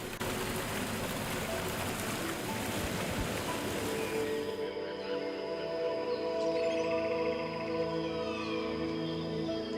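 Cheekudhra waterfall near Rajavommangi village pours steadily in the rainy season, a continuous broad rushing wash of water, fairly close and even throughout, with no other sounds standing out.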